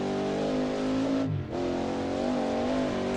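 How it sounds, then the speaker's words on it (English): A Ford GT40 race car in a historic sportscar racing simulator at Bridgehampton roars steadily at high revs, with a brief dip as the engine note shifts, loud and continuous with no talk. "listen to the car echo through Echo Valley here"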